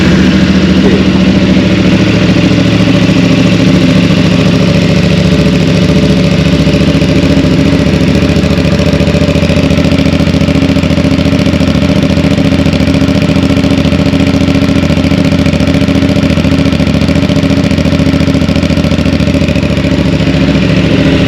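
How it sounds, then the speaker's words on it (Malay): CFMoto 450 CL-C cruiser motorcycle engine idles loud and close, a steady deep bassy rumble that holds unchanged throughout with no talking. "Jadi pastinya anda nak dengar bunyi motor ini."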